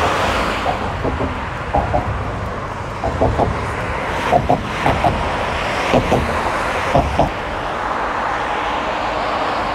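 Trucks rumble and rattle across a long road bridge near Duisburg in heavy traffic. A constant roar of road noise is broken by repeated sharp metallic clatters and knocks.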